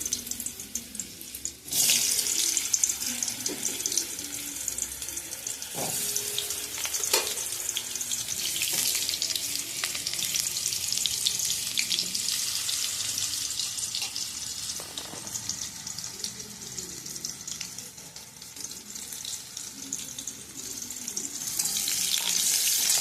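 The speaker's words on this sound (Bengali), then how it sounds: "কড়াই আমি সর্ষের তেল দিলাম 4 টেবিল চামচের 4 চামচ। আলুগুলো একটা একটা করে দিয়ে সব ভেজে নেব।" Diced potatoes fry in mustard oil in a kadai, giving a steady, close hiss and sizzle with a few sharper crackles and pops throughout, and no voices.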